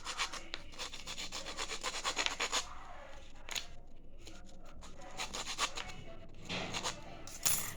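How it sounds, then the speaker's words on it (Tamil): Steady scraping and rubbing of a blade cutting a V-shaped notch into wood for a homemade bow, close and fairly quiet, continuous strokes with brief pauses and no speech. "இங்கே நல்லா அப்படியே வி மாதிரி கட் பண்ணிக்கோங்க."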